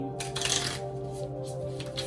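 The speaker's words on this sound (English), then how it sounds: "That was an ugly shuffle." A tarot card deck being shuffled by hand indoors, a short burst of riffling card flutter followed by softer scattered card slaps, quiet and close over a faint steady background hum.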